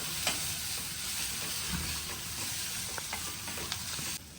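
Garlic and onion fry in a pan for a Marathi-style aamti, a steady close sizzle with occasional stirring scrapes and pops, no voices.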